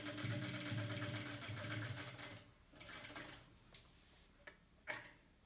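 Sewing machine running a reverse stitch across the gathered pleats of a two-layer cotton fabric mask, a steady mechanical whirr with ticking for about two seconds, then fading into scattered soft clicks and handling taps.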